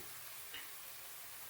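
Whole spices and green chillies fry in hot oil on a lowered flame, giving a soft, continuous sizzle with a faint stir midway, steady and fairly quiet with no talking.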